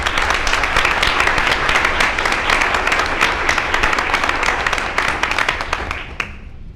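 A school board meeting audience gives sustained, loud, crisp clapping that continues evenly and then tapers off near the end.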